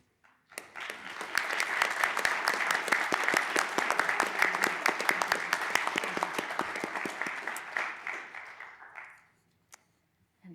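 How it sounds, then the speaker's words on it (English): An audience at a regional transportation commission board meeting claps for a team in a steady burst of applause lasting about eight seconds, then it fades out to quiet. "please join me in giving them a well-deserved round of applause"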